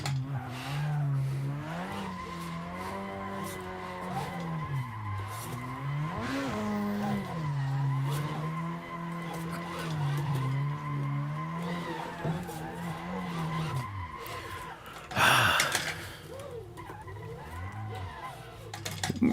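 A car drifting with heavy oversteer: a steady high engine drone rides over tires skidding and squealing for about fifteen seconds, close and loud, and a sharper burst of tire noise comes near the end.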